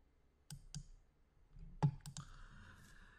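A computer mouse clicks on an OK button, several sharp, isolated clicks close to the microphone in a quiet room, then a faint hum of the machine.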